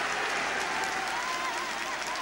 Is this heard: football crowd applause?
yes